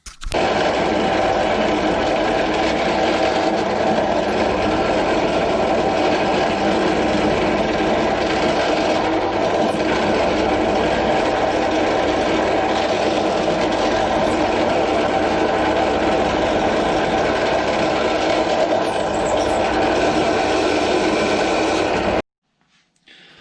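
Power drill boring pilot holes into wood for a slingshot band tying jig, a continuous whirring grind that runs steadily for about twenty seconds, close and loud, then stops abruptly.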